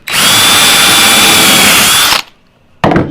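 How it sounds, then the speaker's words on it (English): A power drill with a 1/4 inch bit bores a hole in a template. There is a loud, steady high whine for about two seconds, a brief stop, then the motor spins up again, close and with no one speaking. "take a 1/4 inch bit on your drill"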